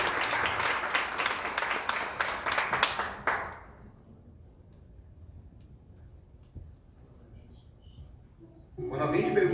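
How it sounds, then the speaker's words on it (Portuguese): A church congregation at a prophetic conference breaks into applause: quick, rhythmic clapping from many people for about three seconds, then it fades to near quiet before another loud sound swells at the end. "Uma salva de palmas para Jesus."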